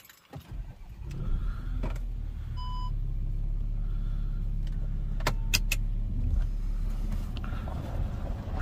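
A car is driven slowly into position at night in a forest, its engine a low steady rumble with a few short clicks, a brief electronic beep and scattered knocks over the top.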